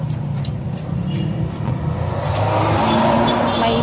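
A bus rumbles past on the road, its heavy low engine drone steady and close, slowly swelling louder toward the end.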